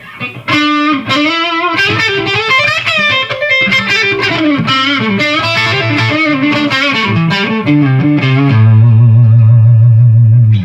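A crunchy, overdriven electric guitar through a Marshall JVM210 tube amp on the green channel plays a loose melodic line with reverb trailing off each note, ending on a sustained ringing chord.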